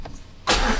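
A Peugeot 206 GT S16 being cranked after a quiet pause, the engine catching with a sudden loud burst of starter and motor noise that carries on to the end, close by.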